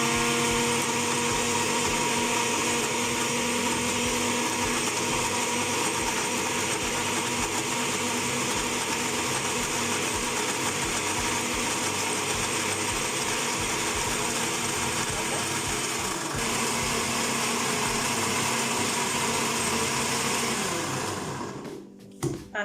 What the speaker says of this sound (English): I'm going to blend my garlic and my